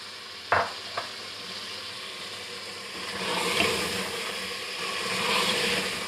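Pumpkin or bottle gourd goes into spices already fried in a pan, with a couple of sharp knocks from the spoon at the start, then steady sizzling and stirring that grows louder partway through, no voices.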